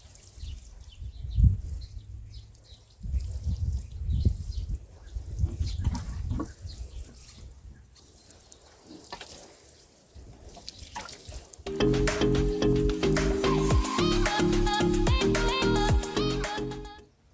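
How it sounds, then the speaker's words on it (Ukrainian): Water splashes and trickles onto a garden bed's soil in uneven bursts, close by, before music comes in over the second half. "Проливаю грядку водою."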